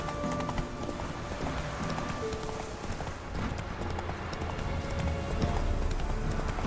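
A horse gallops in the Witcher 3 video game, a continuous rapid drumming of hooves that stays close and steady throughout.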